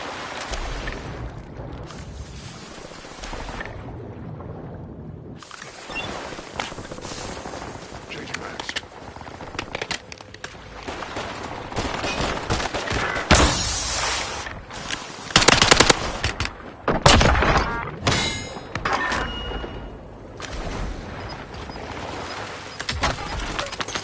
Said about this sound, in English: Shoot him a couple more times, think he should be done.